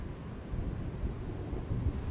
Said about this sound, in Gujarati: ગાજવીજ સાથે થયું માવઠું।